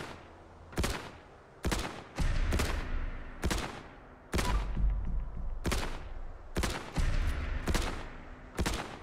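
An unsuppressed short-barrel pistol fires in Fallout 4, about ten loud sharp shots spaced irregularly, some in quick pairs, each followed by a brief ringing tail.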